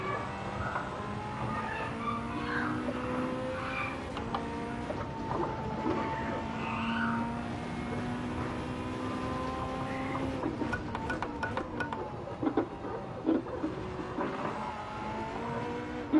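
A race car engine in Gran Turismo 7 during a Le Mans three-hour endurance race, a steady high droning whine that shifts pitch as it runs, continuous and mid-distance with no voices.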